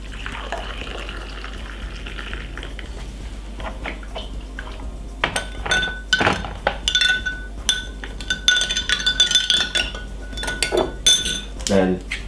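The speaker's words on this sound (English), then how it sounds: "And then you get the kettle boiled with some hot water." Hot water poured from a boiled kettle into a glass holding cinnamon, with clinks of glass and utensils, a steady pouring stream and ringing tones, close and fairly loud, while someone talks at times.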